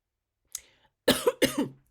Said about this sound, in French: cette toux que je me traîne depuis janvier